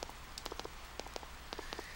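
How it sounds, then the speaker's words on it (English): Rain falls in the video game Persona 4 as scattered light droplet taps over a steady soft patter, quiet and continuous with no voices. "Rainy day on Saturday!"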